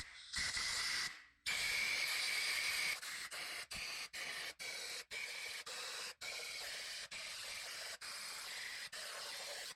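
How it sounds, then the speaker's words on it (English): Compressed air blasts dust out of the bolt holes in a 2JZ-GTE engine head: two long loud hissing bursts, then a rapid series of shorter sharp blasts with brief cutoffs between them, close and harsh. "we're gonna take some compressed air and blow those out so they're nice and clean"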